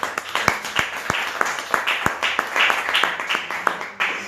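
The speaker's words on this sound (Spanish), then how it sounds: "ya le está dando otro aplauso al Señor." Church congregation clapping in rhythm during a worship service, a steady beat of sharp handclaps running throughout at moderate loudness with a roomy wash behind it.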